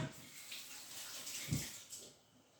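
Hands are washed under a running kitchen tap after handling eggs, a soft steady stream of splashing water with a brief louder splash midway.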